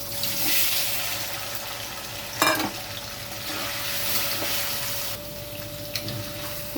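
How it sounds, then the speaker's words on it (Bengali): Paneer pieces sizzling in hot oil in a pan, a steady close frying hiss with occasional stirring clinks and scrapes, no talking. "তেল গরম হয়ে গেছে, পনিরগুলো হালকা ভেজে তুলে নেব।"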